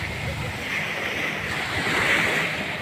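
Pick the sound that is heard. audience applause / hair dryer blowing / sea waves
sea waves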